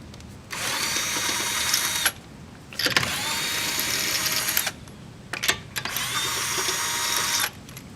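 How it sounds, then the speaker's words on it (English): A cordless power drill spins lug nuts off a car wheel in three loud, sustained whirring bursts of roughly one and a half to two seconds each, separated by short pauses and a brief clunk, with no talking. "I got this drill for 20 bucks."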